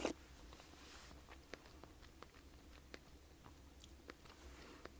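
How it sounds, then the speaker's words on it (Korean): Someone takes a bite of food and chews quietly and close, producing faint, soft crunching ticks spread over a few seconds against a low background hum. "우선 한입 하겠습니다"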